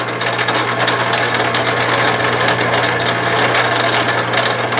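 Atlas/Craftsman 12-inch metal lathe cutting a thread, a steady loud mechanical drone with a low hum and dense rattling chatter running continuously, no talk.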